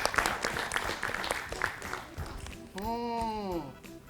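A quiz-show audience claps in a short burst of scattered applause for a correct answer, and a voice and a musical tone rise over it as it fades.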